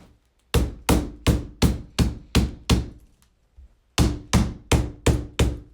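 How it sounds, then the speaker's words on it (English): A mallet taps together the parts of a one-layer chicken cage in sharp, loud knocks. There is a run of six evenly spaced blows, a short pause with one faint tap, and then five more blows at the same pace. "make sure these are lined up properly before you use the mallet"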